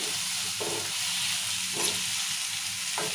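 Tomatoes being stirred into hot oil in a frying pan with amaranth leaves, a steady loud sizzle and hiss with a few soft spatula scrapes and stirs, and no talking.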